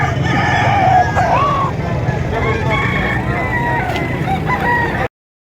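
A rooster crows several times over a busy outdoor background of engine rumble and steady noise, fairly close and loud, at a chicken market in Padre Garcia, Batangas.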